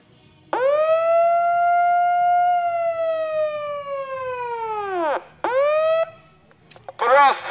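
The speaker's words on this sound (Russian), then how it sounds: "И теперь прекрасная сирена." A loud wailing siren rises and holds, then falls away, followed by two shorter bursts, close and prominent over a faint background.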